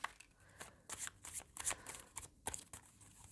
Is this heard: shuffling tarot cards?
yes